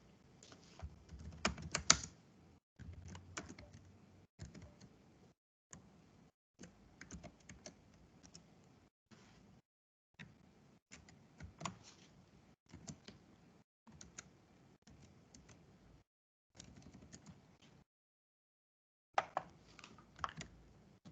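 Someone types code on a computer keyboard, with quick bursts of close, crisp key clicks broken by short pauses and near-silent gaps across the whole stretch, and no talking.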